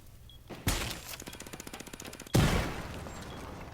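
Burst of automatic gunfire in the Rainbow Six Siege video game: a sharp start followed by a rapid, even string of close shots lasting under two seconds, then a heavy impact and fading reverberation.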